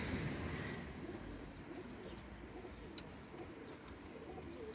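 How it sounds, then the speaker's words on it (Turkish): Pigeons coo and call around a pigeon coop in a pigeon village in Eskişehir, Turkey, where tumbler play birds and racing pigeons are kept; a steady, fairly close outdoor bird murmur runs throughout with no talk. "Kuş geliyor gene kendi kümesine oynuyor."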